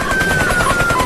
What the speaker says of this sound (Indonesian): Li Dan yang sudah muak pun mengambil senjata untuk menembaki Paijo.